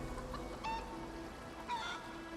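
A chicken familiar in the video game Pathfinder: Wrath of the Righteous gives a couple of short, faint clucks over quiet background game music.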